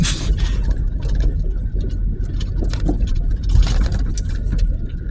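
A car rolls along a narrow, bumpy rural road with patchy pavement, its engine drone and tyre rumble steady and close, broken by uneven jolts and rattles throughout.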